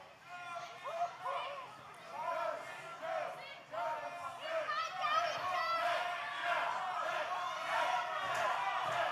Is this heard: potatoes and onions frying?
no